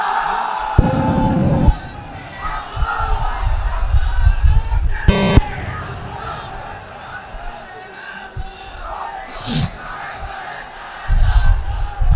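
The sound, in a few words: crowd shouting takbir chant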